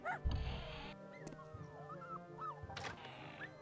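Dalmatian puppies in the video game 101 Dalmatians: Escape from DeVil Manor give soft, high whimpers and yips, a few short wavering cries scattered over quiet game background sounds.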